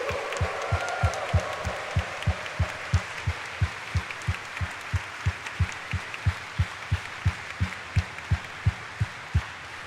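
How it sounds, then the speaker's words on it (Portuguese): Congregation applauding in a church during a Mass homily, a broad wash of clapping from many people with a strong, steady rhythmic clap beating through it, sustained and moderately loud from start to finish. "Dê uma salva de palmas para Jesus."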